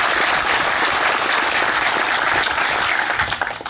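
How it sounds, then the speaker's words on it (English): A crowd claps steadily in a dense, sustained round of applause that begins to thin out near the end. "Let's give them a round of applause."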